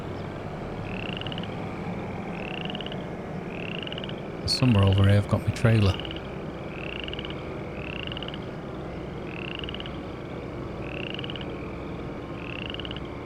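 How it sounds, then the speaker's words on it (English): Frogs croak steadily at night in the Farming Simulator 25 video game, evenly spaced, moderately loud calls repeating about once a second throughout, while someone briefly talks midway. "There's the frogs."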